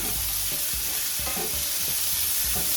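Garlic is stirred around a hot frying pan: a steady, close sizzle runs throughout while a spoon scrapes and pushes through it in several uneven strokes.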